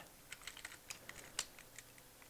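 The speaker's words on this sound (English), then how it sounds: "And now I'm going to type in." Keystrokes on a computer keyboard while editing text on an HTML website, a quick irregular run of light, close clicks with brief pauses between bursts, alone and fairly quiet.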